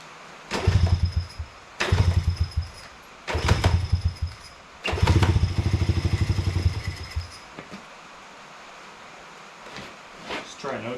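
An early-2000s Honda CRF50 pit bike with a loose chain starts and runs in four short bursts, each revving up and then dying away instead of settling into an idle, with short pauses between them.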